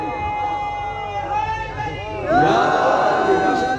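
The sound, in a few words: crowd of believers chanting religious slogans at a majlis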